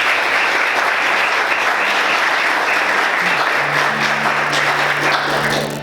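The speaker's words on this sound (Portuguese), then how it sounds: "Vamos aplaudir o Senhor" Loud, sustained applause fills a church during a service, a dense and even roar of many hands with a faint tone humming underneath toward the end.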